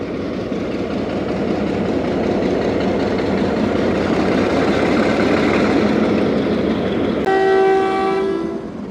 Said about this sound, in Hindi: मुख्तसर से स्टॉप के बाद ट्रेन रवाना हो रही है।